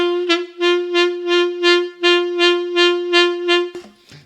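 A sustained saxophone note holds a steady pitch while its loudness swells and fades in rapid regular pulses, then cuts off briefly and resumes.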